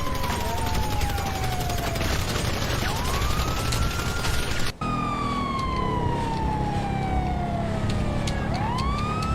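Police sirens wail in a video game, with repeated descending and rising tones layered over engine roar and gunfire-like crackle, loud and continuous, with a sharp cut midway into another siren sweep.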